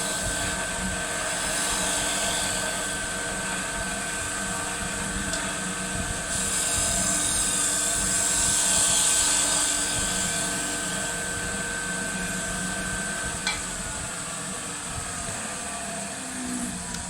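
A wood lathe turns a cove with a skew chisel cutting downhill, giving a steady, loud whirring drone with a high hiss of the cut that rises and falls through the middle, continuous throughout with no talk.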